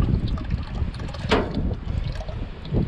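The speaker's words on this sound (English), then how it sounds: "This wind is making things really difficult." Gusty wind buffets the microphone outdoors beside a Case backhoe under transmission repair, a steady low rumble with one brief louder gust, no speech.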